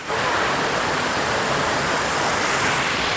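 Asurghati waterfall roars in a constant, loud broadband rush of falling water, steady and close throughout with no pauses or voices.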